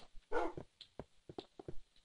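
Dogs in a video game, several short barks and yips in quick irregular bursts, fairly close, with no talk over them.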